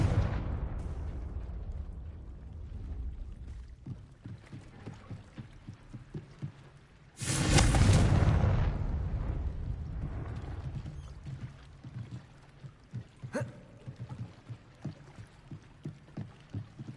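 A Confringo spell in Hogwarts Legacy explodes midway with a single loud, sharp blast that fades quickly, set in an underground harbor among softer repeated thumps and rumbles.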